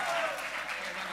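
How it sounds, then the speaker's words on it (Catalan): Audience applause for runners-up at a Catalan blogging event, a brief dense burst of clapping from many hands, with a voice talking over it. "un aplaudiment també pels segons classificats."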